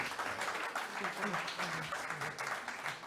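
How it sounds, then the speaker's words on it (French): Faint, sustained applause from a TV studio audience, a soft even patter of many hands heard at a distance, with voices talking over it. "On l'applaudit très fort."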